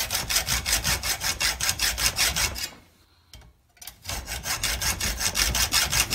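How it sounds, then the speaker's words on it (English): A hacksaw cuts into the metal door hinge of a 2006–2013 Chevy Impala. It makes fast, even rasping strokes close up, stops briefly, then picks up again at the same steady rhythm. "Let me just see if it's even hacksawable."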